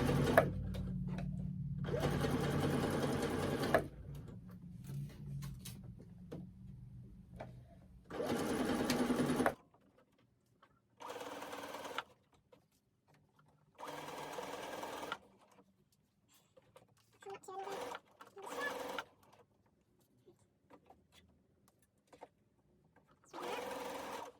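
A sewing machine stitches the bodice of a self-drafted sundress, running in several loud bursts of rapid mechanical whirring separated by quiet pauses and small handling sounds.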